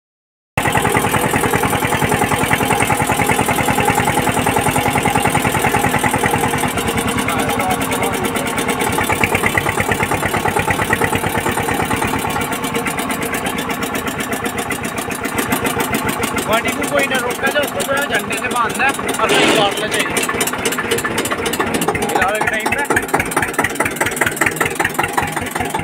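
A tractor stuck in a muddy field during rain, its engine running steadily and loudly for the whole stretch, with a rough, pulsing idle that quickens near the end while people talk over it.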